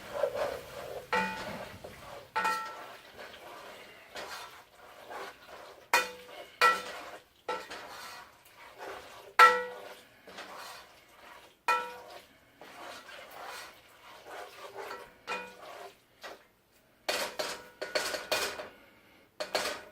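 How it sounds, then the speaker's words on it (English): A spoon scrapes and scoops cheesy noodles in a metal pot, a run of sharp clinks and scrapes arriving in irregular bursts with quiet gaps between them, close and clear, with no talking. "Get a little scoop of these noodles to put them in here to melt what's left in here"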